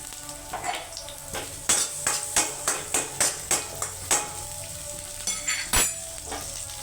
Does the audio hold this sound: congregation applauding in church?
no